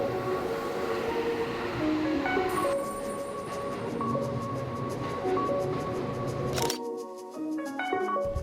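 A train in Tokyo rumbles past nearby with rising whine and steady clatter, then the noise drops away abruptly as it moves on, leaving fainter tones.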